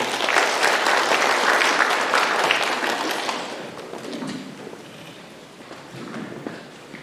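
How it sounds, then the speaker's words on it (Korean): Audience at a memorial lecture applauding a guest, loud dense clapping for several seconds that thins out and fades, with scattered claps and faint footsteps trailing off. "박수로 맞아주십시오."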